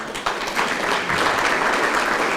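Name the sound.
audience applause at comedy show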